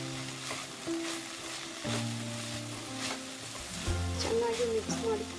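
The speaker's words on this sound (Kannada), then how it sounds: "ಇವಾಗ ಇದು ಚೆನ್ನಾಗಿ ಫ್ರೈ ಆಗ್ತಾ ಇದೆ" Long beans stir frying in a pan for a Karnataka-style palya: a steady soft sizzle with intermittent stirring scrapes and clatters, fairly quiet, with someone talking over it.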